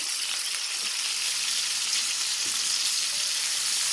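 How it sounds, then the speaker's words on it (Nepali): Long-sliced onion with a little salt frying in a pan, a constant dense sizzle that is loud and close throughout, with no talk. "अब प्याजलाई पनि गोल्डन ब्राउन हुने बेलासम्म यसलाई फ्राई गर्नुपर्छ"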